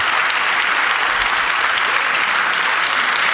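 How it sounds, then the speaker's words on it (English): Audience applause at a political speech on US aid to Ukraine, a steady dense wash of clapping from a large crowd lasting throughout, loud and uninterrupted with no voices on top. "The one-time Democrats clap."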